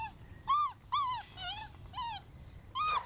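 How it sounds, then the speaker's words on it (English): Seven-week-old female puppies whimpering in a series of high, plaintive whines, about six short cries spaced across a few seconds, close by and fairly soft. "Sad, sad puppies."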